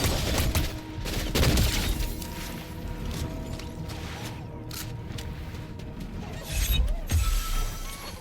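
Game gunfire crackles in dense bursts across a busy, noisy mix, with louder volleys near the start and again toward the end.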